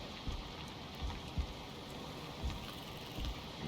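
Steady rain falling in the Viking survival game Valheim, a soft continuous hiss of droplets with a few louder low thumps scattered through, heard alone with no talking.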